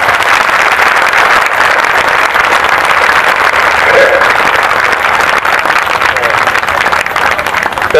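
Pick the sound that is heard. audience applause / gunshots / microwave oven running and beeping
audience applause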